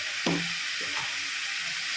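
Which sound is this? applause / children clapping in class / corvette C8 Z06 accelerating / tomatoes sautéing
tomatoes sautéing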